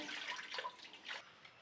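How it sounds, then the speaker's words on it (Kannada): Water poured from a tap into a pressure cooker holding washed lentils, a faint, close splashing stream with a few brief surges, no voices. "ಬೇಳೆ ತೊಳೆದು ಸೇರಿಸ್ಕೊತಾ ಇದ್ದೀನಿ ಕುಕ್ಕರ್ಗೆ ನೀರು ಎಷ್ಟು ಬೇಕಷ್ಟು ಸೇರಿಸ್ತೀನಿ"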